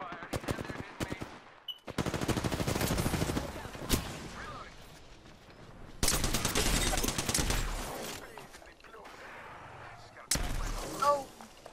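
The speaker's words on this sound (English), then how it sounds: "Opening fire." Several bursts of rapid automatic gunfire from an Apex Legends match, each lasting a couple of seconds with brief lulls between, with players talking over parts of the shooting.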